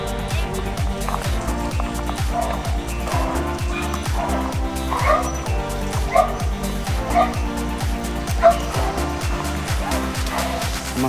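Many dogs barking, yipping and whimpering at the Soi Dog Foundation shelter in Phuket, Thailand, a continuous busy chorus of close and distant barks with some talk in the background.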